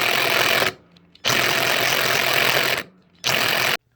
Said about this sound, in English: So let's cut some pucks out.